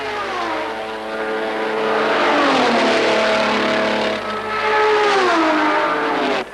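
Italian Ferrari race car engine at the Le Mans 24-hour race, a loud sustained roar with rising and falling revs as it passes, close and continuous with no voices.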